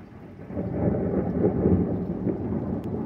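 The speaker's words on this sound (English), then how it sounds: "You can probably hear the thunder better." Thunder rumbles close by during a thunderstorm, a low, rolling roar that swells and lingers over steady rain.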